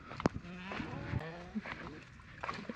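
Cattle low at a distance on a grazing area on Sandwip island among buffalo and sheep, a few drawn-out moos over outdoor ambience with faint voices.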